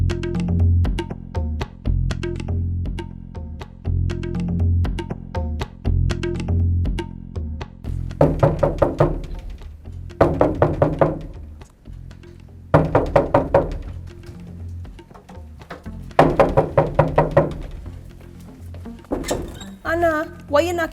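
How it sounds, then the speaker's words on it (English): Repeated bursts of heavy knocking on a door in a Jamaican drama scene, arriving in loud clusters of blows over steady background music. "why you knocking down my door?"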